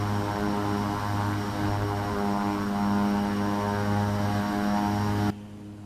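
An Embraer 110 twin-turboprop climbs in flight, its engines and propellers giving a loud, steady droning hum with strong tonal harmonics heard from inside the cabin, dropping away abruptly near the end.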